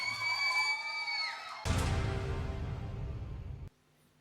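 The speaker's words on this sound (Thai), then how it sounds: "ขอเสียงปรบมือดัง ๆ นะครับ" A political rally crowd for the Thai Sang Thai party breaks into a loud burst of cheering, whoops and clapping for about two seconds right after a man's amplified speech, then cuts off abruptly.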